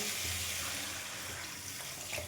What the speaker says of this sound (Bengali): বেশ কিছুটা জল দিয়ে দিলাম।